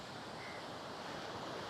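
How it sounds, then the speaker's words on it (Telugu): Ocean waves break on Alleppey beach in Kerala, a steady, hissing wash of surf that fills the moment evenly with no voices over it. "సౌండ్ వినండి గైస్ అలది"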